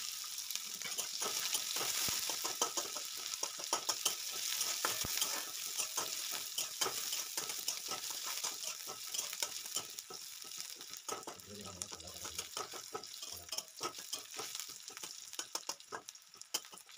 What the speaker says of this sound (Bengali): পেঁয়াজ কুচিগুলোকে সেম লালচে করে ভেজে নিতে হবে